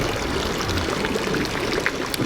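Clean water from a public drinking fountain in Zurich streams steadily into a water bottle, a continuous close-up rush and trickle.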